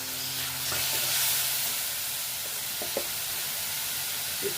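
Chopped tomatoes tossed into a hot kadai of rajma curry masala give a steady, close sizzle and hiss, with a few faint clinks of a stirring spoon.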